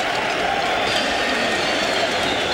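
A boxing arena crowd cheers for heavyweight Vitali Klitschko in a continuous, dense roar that holds an even level from start to finish.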